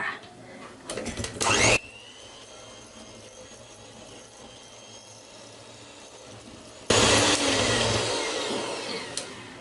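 Egg being beaten into butter cookie dough for pressed sugar cookies with an electric mixer, heard as two loud whirring bursts, a short one at the start and a sustained one near the end, separated by a quieter stretch.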